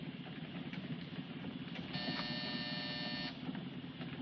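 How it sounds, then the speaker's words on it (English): Door buzzer in an old Hollywood bank-heist film sounding one steady electric buzz for about a second and a half, faint under a low background hum. "Hit that buzzer."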